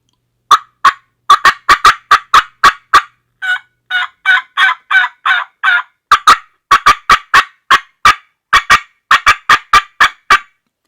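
A hand-blown mouth call imitating a turkey hen's flydown cackle runs through a long series of sharp, rapid clucks and yelps, irregular and excited, with a softer slurred stretch in the middle.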